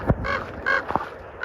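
Birds calling in short harsh squawks, about three bursts over a second and a half, fairly close, while hunting dogs chase them outdoors.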